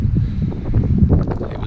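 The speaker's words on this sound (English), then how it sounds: "So wind picked up during the night quite heavily as forecast." Strong wind gusting around a tent at a wild camp in the Lake District's Eastern fells, a steady low roar with rushing surges buffeting close to the microphone throughout.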